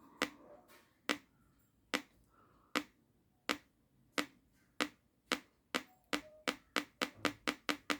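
A two-transistor audio oscillator emits sharp isolated clicks, starting roughly once per second and then speeding up into a faster, evenly spaced ticking, each click crisp and decaying quickly against a quiet background.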